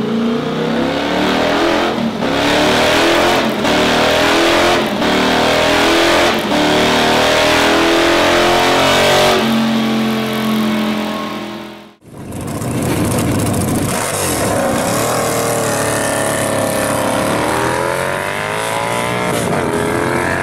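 A loud V4 pushrod engine on a Motus MST sport touring motorcycle revs hard and repeatedly, rising and falling in pitch, with a brief cut before revving up again close by.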